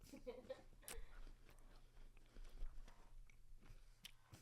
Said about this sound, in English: I don't want to chew on the mic